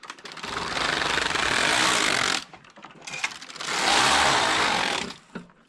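A Passap E6000 knitting machine knits two rows with a cast-on comb in place: two long, loud whirring, rattling carriage passes of about two seconds each, separated by a brief quieter pause and a few faint clicks.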